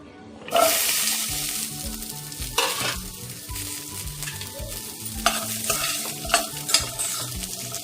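Cut beetroot pieces hit a hot pan with a sudden loud burst of sizzling. Repeated scraping stir strokes follow over a steady fry, close and prominent, with no talk.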